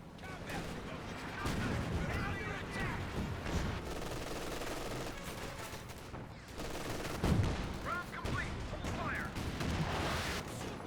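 Tank cannon and small-arms fire crack and boom repeatedly in Company of Heroes 2, with a Panther tank involved, as dense layered battle noise runs continuously with a voice commenting over parts of it.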